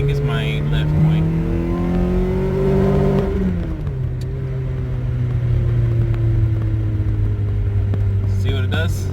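A 2006 Toyota Corolla XRS engine revs hard but fails to engage VVT-i lift. The high, steady drone dips once, then hangs at a stuck pitch, close and loud, with some voice over it.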